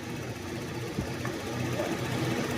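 A Toyota Revo engine idles steadily with a low, even rumble and a faint mechanical clatter, close and continuous with no voices.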